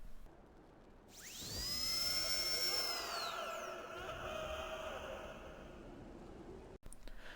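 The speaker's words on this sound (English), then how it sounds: "you can turn the wheel on the dentist chair to hear drilling followed by the patient screaming" A high, whining dentist-chair drill in a horror zombies video game map spins up, holds steady for several seconds, then winds down amid an eerie ambient hum, with a sharp cut near the end.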